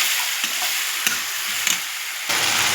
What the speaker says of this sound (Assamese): এতিয়া মছলাখিনি যে পিচি লৈছিলোঁ এইখিনি তেলত ধুনীয়াকৈ ভাজি ল'ব